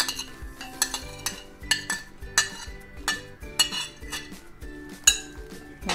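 Utensils clink and scrape rhythmically against a bowl as tuna and bean salad with onion is stirred together, a steady series of close, bright metallic taps repeating about every half second with no talking.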